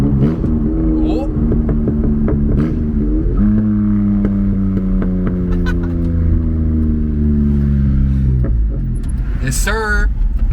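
A kei truck fitted with a motorcycle muffler and a cold-air intake revs and downshifts, booming with long falling and rising engine sweeps and a few sharp pops, loud inside the cab while occupants talk.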